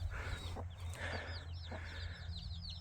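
A backyard hen clucks softly over a low steady hum, with several short bursts of clucking and chirpy calls from other chickens nearby.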